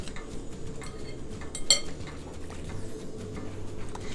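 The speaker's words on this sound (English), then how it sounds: "we're just gonna lightly butter the buns" A knife scrapes and spreads butter over soft buns, quiet intermittent smearing strokes with one sharper clink of the blade against a dish near the middle.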